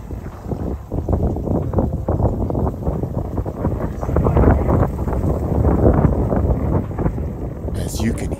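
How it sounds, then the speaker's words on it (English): Strong outdoor wind buffets the microphone with steady low roaring gusts during a pest-control airgun outing, loud and continuous, while someone talks over it. "the wind has really picked up"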